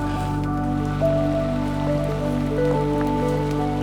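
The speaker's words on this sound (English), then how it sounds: "Oh, this rain is getting quite difficult to work with." Steady rain patters on leaves and ground in an autumn forest, a constant close hiss of drops with no voices and a faint low drone underneath.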